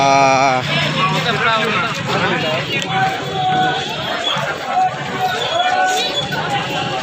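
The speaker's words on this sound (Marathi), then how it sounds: "बघा मित्रांनो गर्दी आज बघा भाजी मार्केट आहे इथं" Dense crowd chatter at a busy vegetable market on a rain-damaged road, many overlapping voices and bustle close around, with a nearer voice talking over the babble throughout.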